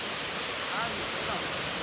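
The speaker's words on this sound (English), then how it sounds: "So here is the falls, guys." Waterfall in Kirinyaga, Kenya, a continuous loud broadband rush of falling water heard up close, steady and unbroken.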